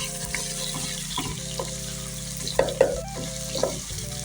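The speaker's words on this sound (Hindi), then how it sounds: "हम हल्का सा लहसुन अदरक के पेस्ट को करेंगे फ्राई साथ" Garlic and ginger paste frying and sizzling in a pan after onions have browned, with a steady hiss broken by several louder stirring scrapes and clinks of a spoon against the pan.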